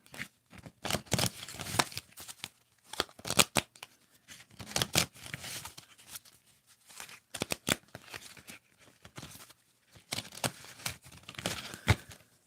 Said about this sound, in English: let's give it another shuffle and see what card pops out